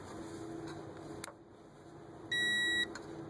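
A torque wrench setting a spark plug in a Chevrolet Equinox 3.4L gives one clear electronic beep, steady for about half a second, above a quiet background with faint ticks and no talking.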